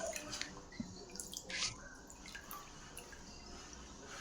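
Fish being rinsed in a bowl of water in a home kitchen before cooking a fish curry and fried fish, with soft dripping, splashing and squishing sounds close by, no talking.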